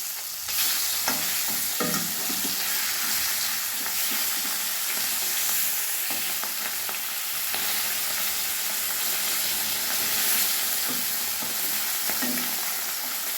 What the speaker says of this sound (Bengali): এবারে মাছের এক পিঠ ভাজা হয়ে গেছে। এবার মাছটা উল্টিয়ে দেবো।